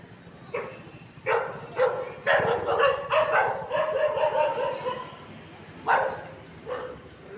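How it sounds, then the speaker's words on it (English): Several dogs bark in Kathmandu, sharp repeated woofs in bursts with short pauses, fairly close on a street in the early morning. "dogs are always scary to me because they are always in packs."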